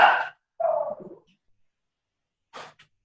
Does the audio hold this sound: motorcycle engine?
no